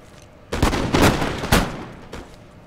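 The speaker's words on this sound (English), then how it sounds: "So yeah, I'm still firing into his ranks with my Jaegers." Jaeger light infantry in Napoleon: Total War fire musket volleys into enemy ranks, a burst of loud, broadband cracks in quick succession followed by a few scattered later shots and rolling echo, no voices.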